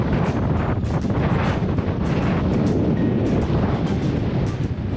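Strong storm wind batters an exposed hilltop on Kinder Scout in the Peak District during Storm Babet, a constant loud roar buffeting the microphone with gusty surges throughout.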